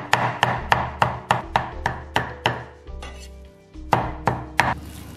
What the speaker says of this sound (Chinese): 再来剁点肉末